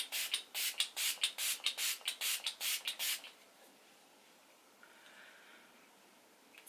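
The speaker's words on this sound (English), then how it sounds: "let's spray it on my face" A Catrice face mist pump fires about ten quick, even hissing bursts close by, then leaves a quiet room with faint noise afterward.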